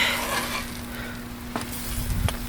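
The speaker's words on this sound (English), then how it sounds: "I'm just gonna give them a flip, I guess." Tostadas frying in a pan after being flipped, a soft steady sizzle with a couple of faint scrapes and taps near the end.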